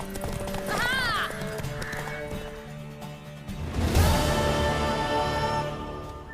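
Horse hooves clip-clop in The Witcher 3 as a mare is ridden, with a loud whinny early on over in-game music and ambience, the hoofbeats continuing steadily throughout.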